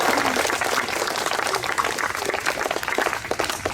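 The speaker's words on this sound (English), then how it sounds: "So another round of applause for Nina." Graduation audience claps for a speaker, a continuous crackling wash of many hands at moderate distance, fairly even throughout with a slight rise and fall.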